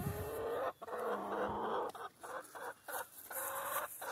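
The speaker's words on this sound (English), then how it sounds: "Rhode Island Reds are coming over." Rhode Island Red chickens cluck steadily at a feeder block, a dense close flock chorus with brief pauses, no talking.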